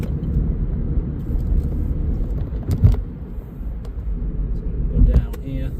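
A 2019 Vauxhall Corsa 1.4 ecoTEC automatic cornering on the road, its low engine and road rumble steady and close inside the cabin, with someone talking over it.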